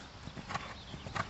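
Horse hooves strike the ground during a riding lesson with galloping horses, giving a few faint, soft clip-clop thuds at a distance over low background noise.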